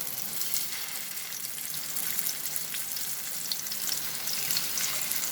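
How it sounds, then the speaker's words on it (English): Chicken keema kebab fries in three tablespoons of hot oil, giving a dense, continuous close-up sizzle and crackle with no talk. "So here I have heated 3 tablespoons of oil for frying."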